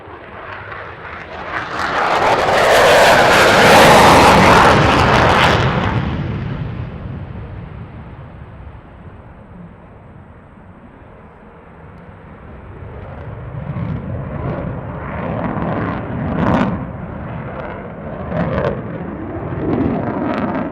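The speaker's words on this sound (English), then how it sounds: "Yeah, this is a F-22 Raptor." An F-22 Raptor jet at an air show roars past, a loud broadband rush that swells and fades over several seconds, then a lower distant rumble continues.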